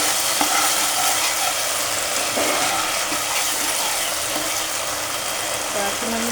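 Masala frying in oil in a pan for a Bengali soybean and potato dish, a steady close sizzle and bubbling with occasional stirring scrapes, continuous throughout.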